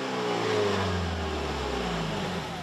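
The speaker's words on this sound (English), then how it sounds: "when in sport mode, it assumes that you want full power and kicks the engine on." The four-cylinder engine of a 2024 Mazda CX-90 PHEV kicks on in sport mode and revs, giving a steady, moderately faint hum that rises slightly in pitch, with no talk.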